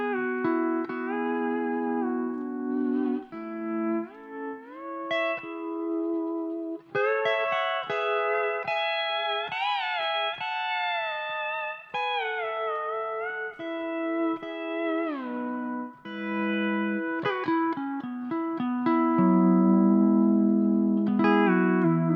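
Electric guitar played through a Quilter Overdrive 200 amp and Frontliner cabinet, miked with a Sennheiser, with reverb only: clean sustained chords and melodic lines ringing out continuously, with no talking.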